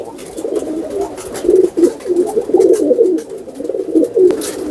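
A golden pigeon coos in a rooftop loft, its low throaty calls repeating in soft rolling bursts close by, with other pigeons faintly present.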